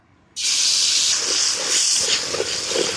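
Onion and garlic paste dropped into hot oil, bursting into a sudden loud, hissing sizzle that stays strong and close for several seconds.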